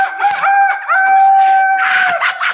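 A rooster crows in Bali, a long sustained call filling most of the moment, with chickens clucking and calling around it, close and loud.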